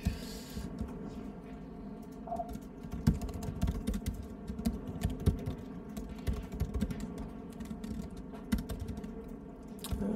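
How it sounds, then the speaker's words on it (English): Steady, rapid clicking of keys on a computer keyboard as someone types code during a C++ debugging session, with uneven bursts and short pauses; close and fairly quiet. "I'm having trouble typing on this keyboard"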